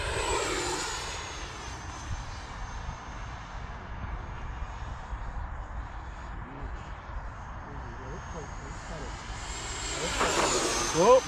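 A small XFLY T-7A 64mm electric ducted-fan RC jet, running on a 6S pack, whines steadily through its landing approach under continuous wind noise and people talking nearby, swelling louder near the end as it comes in.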